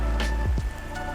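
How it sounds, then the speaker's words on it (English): Rain falls steadily on a street in Dresden's Neustadt, a dense patter of drops heard close, with a couple of low thumps mixed in. "as you can see, it is raining again"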